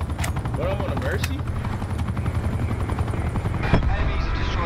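Attack chopper in Call of Duty: Black Ops 4 on the Nuketown map, its rotor thumping steadily and loudly throughout, with bursts of gunfire and a sharp crack near the end.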